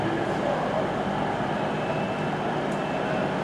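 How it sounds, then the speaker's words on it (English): A GWR class 150 passenger train pulls out of Newton Abbot station bound for Exeter St David's, heard as a steady, dense rumble of engine and wheels that holds at an even level throughout. "On its departure now is the 1912 GWR class 150 service to Exeter St David's."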